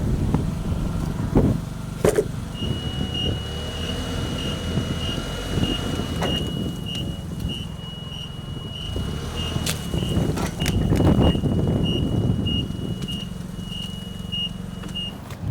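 A vehicle engine idles and rumbles while backing out of a backyard during work moving 15 tons of slabs, with a steady reversing beep repeating through most of the stretch and occasional clunks and knocks nearby.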